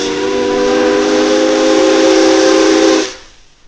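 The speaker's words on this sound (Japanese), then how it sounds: "この蒸気機関車を眺めていると、かつての映画が目に見えるような雰囲気を醸し出している。" A steam locomotive at Kamui Kotan in Hokkaido lets out one loud, sustained whistle blast lasting about three seconds before cutting off abruptly, leaving faint hiss behind.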